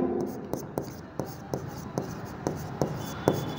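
A pen writes on paper in a quick, regular series of scratchy strokes, close and clear, with a faint voice murmuring in the background.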